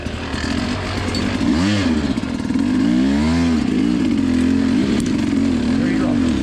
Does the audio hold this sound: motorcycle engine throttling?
yes